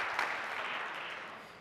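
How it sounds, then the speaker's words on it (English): A hall audience at the MIT 100K Launch Competition claps for the competitors, a dense, sustained burst of applause that fades slightly toward the end. "So, yes, round of applause for all of our competitors."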